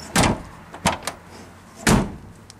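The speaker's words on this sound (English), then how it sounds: "here's just closing the back door" A car door on a 1951 Chevy, fitted with new thick seals, is shut: a few sharp nearby thumps and slams, with one firm closing slam near the end and no talk.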